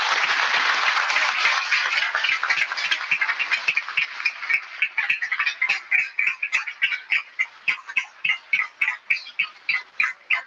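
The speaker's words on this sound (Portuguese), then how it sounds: "Uma salva de palmas para a dona Heloína." A crowd applauds Dona Heloína at a CoronaVac vaccine arrival event in Rio Grande do Sul, dense clapping at first that thins into a slower, more rhythmic pattern of separate claps, with no voices over it.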